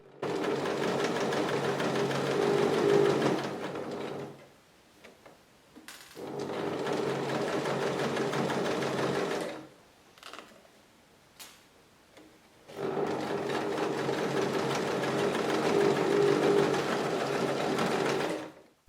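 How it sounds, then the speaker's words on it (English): A domestic sewing machine stitches a fabric hem for bistro curtains, running in three long loud bursts of rapid motor whirring separated by short quiet pauses. "And then we're sewing them."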